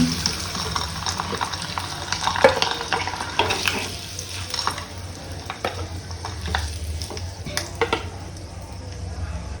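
Pan frying for the Afghani egg curry or bagara rice, a steady close sizzle with repeated scraping and clinks of a utensil stirring against the pot, with no talking.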